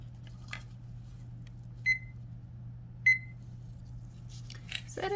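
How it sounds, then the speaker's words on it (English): A kitchen timer is set with two short, clear electronic beeps spaced about a second apart, heard over a steady low hum in a quiet room while resin is being mixed. "Set a timer."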